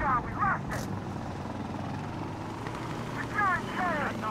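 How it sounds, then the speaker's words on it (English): Minigun-armed attack helicopter in the game Insurgency: Sandstorm drones steadily in the background throughout, under gameplay noise and voice chatter. "Cleric is the minigun helicopter, the one that torched me earlier twice in the first round"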